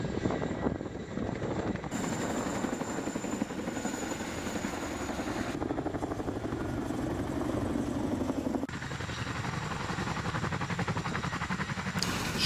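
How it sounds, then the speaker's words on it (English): A military helicopter flies steadily with a continuous rotor and engine roar that stays loud and close throughout, with no voices over it. "one of the best helicopters there is for the military, if not the best."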